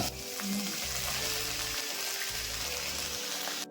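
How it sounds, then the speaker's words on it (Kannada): Mustard seeds and cumin crackling in hot tempering oil, a dense continuous sizzle with popping that stays loud and close throughout, ending abruptly, with no voices. "ಎಣ್ಣೆ ಕಾಯ್ತದಂಗೆ ಸಾಸಿವೆ ಹಾಕ್ಕೊಳ್ಳೋಣ, ಜೀರಿಗೆ ಹಾಕ್ಕೊಳ್ಳೋಣ"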